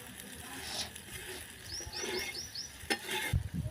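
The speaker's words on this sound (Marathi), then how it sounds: "चारी बाजूने आपण पुन्हा ते भाजण्यासाठी तेल सोडत आहोत." A dhirde, a Marathi gram-flour pancake, roasts in oil on a pan with a soft, low sizzle. Light scrapes and a few clicks sit over it, a bird chirps quickly several times in the background, and a louder knock comes near the end.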